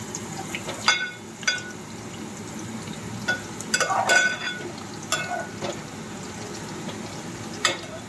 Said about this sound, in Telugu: ప్యాన్ పెట్టుకుని ఆయిల్ వేసుకొని కాకరకాయలను దూరగా బ్రౌన్ రెడ్ కలర్ వచ్చే వరకు వేయించుకోవాలండి.